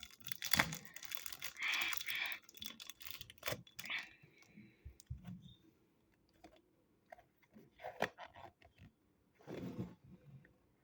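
A pack of football trading cards being torn open and handled, with bursts of crinkling foil and paper rustle, sharp rips and clicks, coming close and fairly loud in separate episodes with quieter gaps between.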